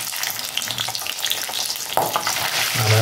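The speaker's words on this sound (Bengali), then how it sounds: "জাস্ট একটু এইভাবে ভেজে নেব।" Ginger sizzles and crackles in hot oil in a pan for a meatless korma, a steady dense frying hiss with a few stirring scrapes, close and without speech.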